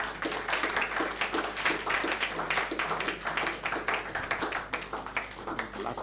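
Continuous applause from a conference audience, many hands clapping in a dense, steady patter throughout.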